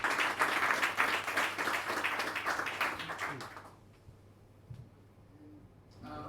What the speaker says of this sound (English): And can we get a round of applause for them?